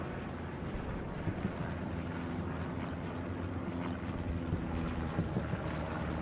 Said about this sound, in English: recon plane is going out over the church and the southeastern side of the point